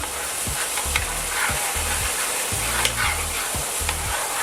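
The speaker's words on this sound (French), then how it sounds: "On baisse le feu, on fait mijoter un peu." Seafood matelote sauce simmering in a pan over lowered heat, with a steady soft sizzle and bubbling under regular spoon strokes roughly every half second, close by with no talking.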